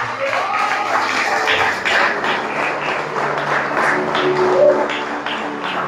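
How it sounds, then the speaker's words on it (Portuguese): A church congregation applauding in worship, steady loud clapping from many hands filling the room throughout, with a few voices faintly mixed in. "As palmas para o Eterno adorar."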